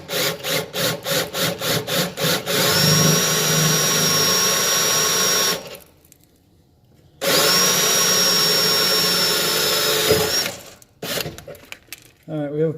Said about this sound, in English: we'll drill the pilot first and then we'll reseat that.